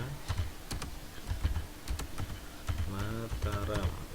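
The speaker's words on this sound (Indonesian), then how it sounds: "Kita ketikkan saja" Keys clatter on a computer keyboard as an address is typed into MYOB accounting software, a quick uneven run of close, light taps, with a voice joining near the end.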